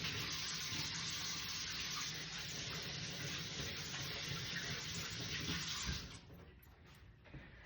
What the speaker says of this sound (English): I had to wash my hands real quick